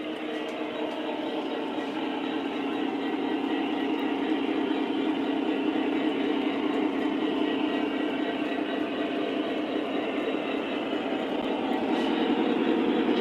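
An O gauge model train hums steadily along a layout as it rolls slowly toward the platform, a soft motor whir with faint clicking throughout.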